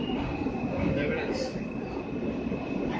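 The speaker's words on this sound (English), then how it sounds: "It's a train going back." A W line subway train runs through a station on a ride from Prince Street to Cortland Street, a steady rumbling roar with a high whine on top, close and continuous, with people talking over it.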